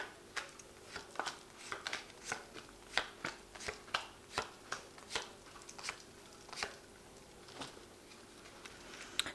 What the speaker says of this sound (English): So I'm going to just draw some cards from the Vanessa Tarot